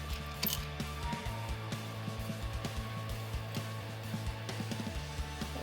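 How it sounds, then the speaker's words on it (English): A Holley EFI electric fuel pump in an LS engine swap primes and pressurizes the fuel system with a steady, low mechanical hum that runs for several seconds before cutting off. "see if the fuel pump is kicking in and see if it's pressurizing the fuel system"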